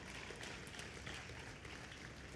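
A church congregation claps together, a dense, even patter of many hands that carries on throughout and sounds faint and somewhat distant.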